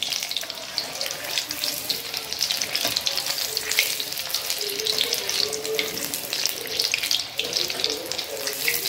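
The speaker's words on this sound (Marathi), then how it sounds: "ही पण मंद आचेवरच तळायची भजी" Paneer pakoras deep-frying in oil on low heat make a steady, close, crackling sizzle with dense bubbling that holds evenly for the whole stretch.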